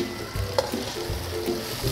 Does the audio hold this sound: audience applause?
no